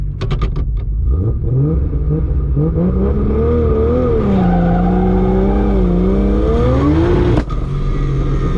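A Barra-powered GT350 launches hard with wheelspin, a loud, close engine roar climbing and wavering under full throttle with tire noise, then cutting off abruptly near the end.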